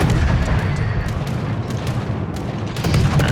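Warship guns boom from the battleship Missouri in World of Warships, a dense roll of heavy artillery blasts with rumbling low end, loud and continuous, several shots blurring together without talk.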